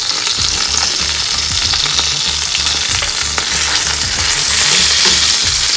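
Chicken veggie buns frying in oil in a pan, a steady loud sizzle and crackle with soft stirring or shifting sounds, continuous with no talking.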